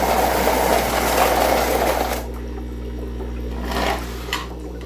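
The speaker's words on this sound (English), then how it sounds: "it's enough bubbles that it looks like it's turning that water" Aerated compost tea brewing in water, with air lines pushing a steady, dense rush of bubbling that is loud and close for about two seconds, then drops to a softer gurgle over a low hum with a few brief splashes.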